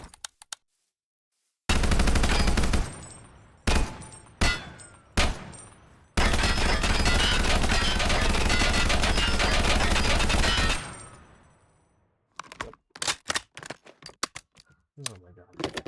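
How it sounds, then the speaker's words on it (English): An M249 machine gun fires in the TaCZ video game: a short burst, several quick separate shots, then a long, loud sustained automatic stream of about five seconds, followed by scattered clicks and handling noises. "We got the M249."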